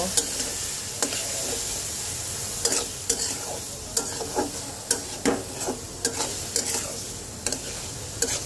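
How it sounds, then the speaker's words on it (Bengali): Onion and garlic paste frying in a pan while being stirred, a steady sizzle broken by repeated scraping strokes of a spoon at a regular pace, close and moderately loud with no talking. "এইবার সব কিছু সুন্দর করে একটু ভেজে নেব।"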